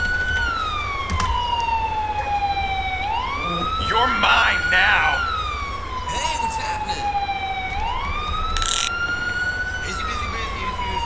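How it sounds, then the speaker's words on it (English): A fire truck siren in GTA V wails, sweeping up and down in long, repeating cycles, loud and steady, with a brief burst of speech and game noise over it. "I'm gonna go ahead and cut off my Siren"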